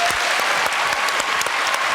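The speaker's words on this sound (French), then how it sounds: "Applaudissements pour Annie." A French television studio audience applauds during a variety show, with a steady, dense burst of clapping that stays at an even level throughout.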